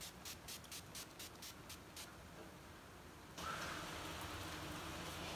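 Rapid short hissing spritzes from a spray bottle of matte finish setting spray pulse in quick succession onto a face, then a quiet steady hiss follows; faint and close.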